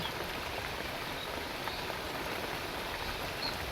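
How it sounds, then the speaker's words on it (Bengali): Heavy rain falling beside a pond, a dense, even roar of drops hitting water and ground that holds steady throughout with no voices. "খুব জোরে বৃষ্টি নেমে গেছে কত জোরে বৃষ্টি পড়ছে"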